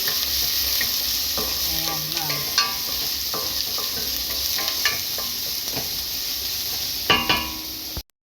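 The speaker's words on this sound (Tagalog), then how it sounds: "Mantika, onion, at imikos-mikos para hindi masunog" Onion frying and being stirred in hot oil, with a steady loud sizzle, scattered clinks and scrapes of a utensil against the pan, and no talking until it cuts off abruptly at the end.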